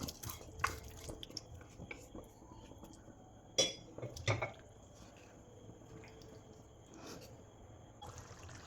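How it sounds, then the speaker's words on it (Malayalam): Cooked Vishu kani cucumber pieces dropped into a simmering masala curry pan: a few soft, wet plops and drips, close but faint, over a quiet low bubbling background. "പിന്നീട് ഇതിലേക്ക് നമ്മൾ വേവിച്ച് വെച്ച വെള്ളരിക്ക ഇട്ട് കൊടുക്കാം"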